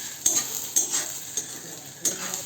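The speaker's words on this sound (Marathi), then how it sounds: "त्यामध्ये लसूण आणि आलं, लसूण आणि आलं टाकल्यानंतर आपण परत परतून घेऊया." Onion, garlic and ginger fry in oil under a soft sizzle while a spoon scrapes the pan about four times at an uneven pace, close by with no talk.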